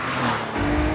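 A new Porsche 911 Carrera speeds along the Autobahn, its engine and tyre roar filling a brief, steady burst that deepens into a heavier low rumble halfway through.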